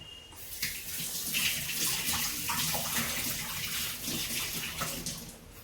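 Water runs steadily from a kitchen tap over green chillies as they are rinsed for chutney, a continuous close splashing hiss that lasts the whole stretch with no talk.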